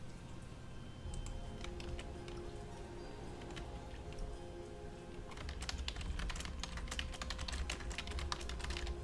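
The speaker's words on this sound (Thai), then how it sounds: "โทษทีเสียงคีย์บอร์ดน่าจะเข้า" Computer keyboard typing runs steadily through the whole stretch, a dense patter of close, crisp key clicks that grows busier and louder in the second half, heard alone with no talk.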